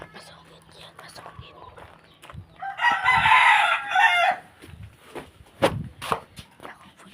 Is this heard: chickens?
yes